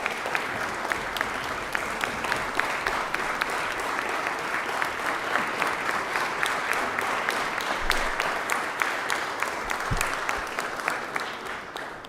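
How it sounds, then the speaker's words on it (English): A crowd in a legislative chamber during the legislative session gives a long round of applause for the staff. The dense, steady clapping fills the room and continues unbroken for about twelve seconds. "Please give them a round of applause."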